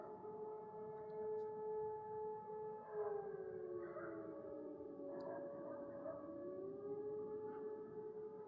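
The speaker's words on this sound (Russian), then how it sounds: "Сирена." A civil defense siren wails at night in Ruzayevka, its steady tone rising and falling in long sweeps, heard from a distance and sounding continuously throughout.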